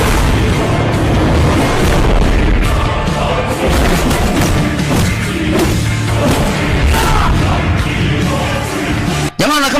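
Gunshots and explosions from the dubbed action film Twin Dragon, a dense, loud barrage of booms and bursts rolling on almost without pause, with a sharp cut near the end.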